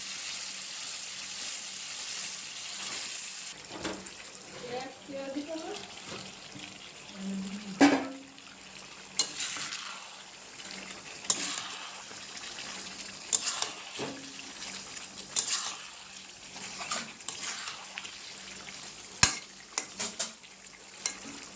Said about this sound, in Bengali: মশলা ভাজি হয়ে গেছে, দিয়ে দেবো মাংসগুলো